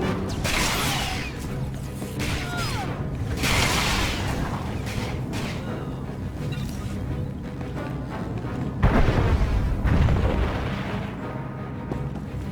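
Weapons fire and impacts in Star Wars: The Old Republic, a dense, continuous barrage of booms, crashes and mechanical clatter, loud and close, with heavier blasts near the end.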